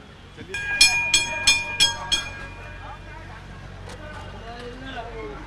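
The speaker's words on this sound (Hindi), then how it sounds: "तो ये एसी ट्राम है और इसका सफ़र हम शुरू करते हैं।" An air-conditioned tram in Kolkata: four quick, bright, bell-like rings come early, then a low steady rumble carries on, with voices faintly under it.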